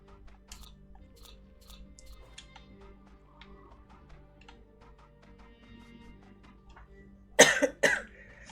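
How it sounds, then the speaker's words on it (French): Two sharp coughs close together near the end, following a stretch of quiet rustling and faint clicks. "j'espère que je vais pas vous casser les oreilles avec ma toux"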